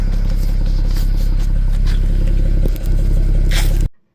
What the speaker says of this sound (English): Let's see if I can rev it up a little bit.